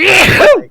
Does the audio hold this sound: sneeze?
yes